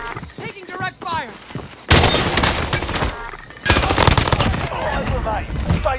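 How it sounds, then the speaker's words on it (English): Bursts of rapid automatic machine-gun fire from a shooter video game, loud and close, come in two long sustained stretches after a voice speaks over a quieter opening. "Taking direct fire."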